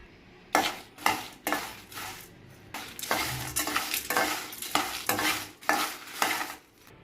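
Whole biryani spices, including nutmeg, mace, marathi moggu and star anise, are dry-roasted in a pan and stirred with a spatula, giving about a dozen close, rhythmic scraping strokes with a light frying crackle between them.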